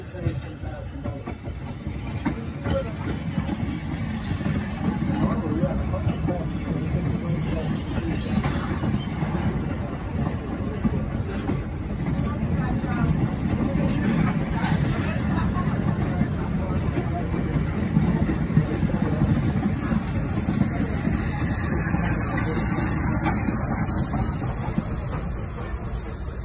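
A museum train pulls in and idles at a railroad museum in Illinois, a steady loud rumble of engine and track noise holding for the whole stretch, with crowd chatter and voices mixed in.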